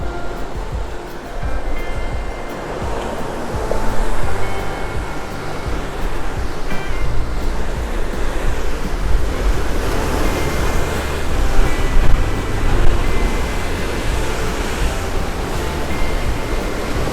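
Ocean surf crashes and churns at Devils Churn, a narrow rocky inlet on the Oregon coast, as a steady, loud roar of breaking waves and wind that fills the whole stretch without pause.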